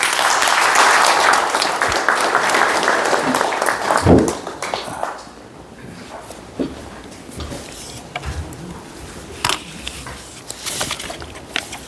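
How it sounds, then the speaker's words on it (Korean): Audience applause at a Korean book-launch event, welcoming the former presidential chief of staff to the podium to read a congratulatory address; dense steady clapping for about four seconds, then fading into quieter room noise with scattered sounds. "큰 박수로 환영해 주십시오."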